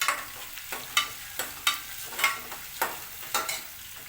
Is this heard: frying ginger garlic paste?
yes